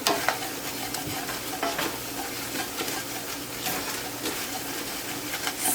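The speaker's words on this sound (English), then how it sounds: "add the flour to it so that I make the roux" A spoon stirs flour into fat in a pot to build a roux for beef stew, giving a soft continuous sizzle with repeated scraping strokes close by.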